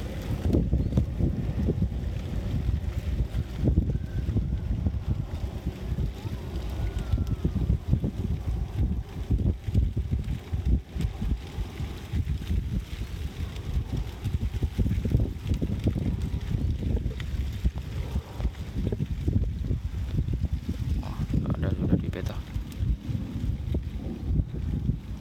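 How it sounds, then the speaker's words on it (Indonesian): Wind buffets the microphone of a DJI Spark drone in flight, a constant low rumbling roar with gusty fluctuations throughout, loud and close with no voices. "Ini anginnya ini dari timur serong"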